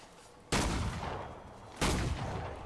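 Sniper rifle fire in Killing Floor 2, with two loud, close booming shots about a second apart, each followed by a rumbling tail that fades slowly.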